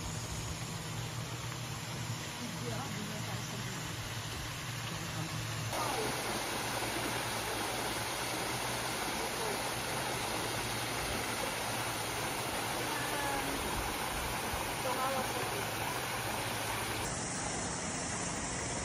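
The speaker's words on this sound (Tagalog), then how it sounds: "Makakababa ba tayo sa ilog, Hana?" A river stream flows in a steady, continuous rush that holds at the same level throughout, with no voices over it.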